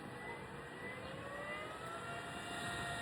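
A 3000 mAh portable rechargeable fan set to high speed, giving a steady, faint airy whoosh with a thin motor whine held evenly throughout.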